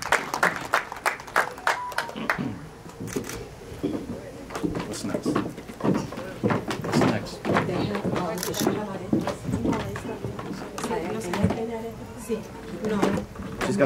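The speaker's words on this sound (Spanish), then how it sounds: "Dame un fuerte aplauso" Guests at a quinceañera party applaud loudly, clapping in scattered, uneven bursts that mix with cheering voices and ongoing talk nearby.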